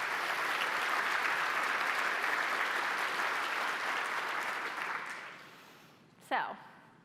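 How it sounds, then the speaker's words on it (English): Audience applause for the GreenBiz team fills the first five seconds as a dense, steady clatter of many hands, then tapers off, followed by a short burst of other sound near the end. "So I think we should give them a round of applause."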